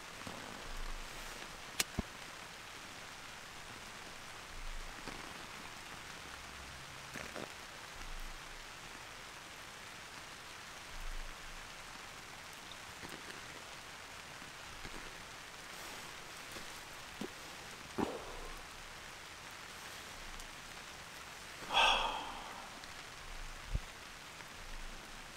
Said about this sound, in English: Sound of the rain, it's so peaceful.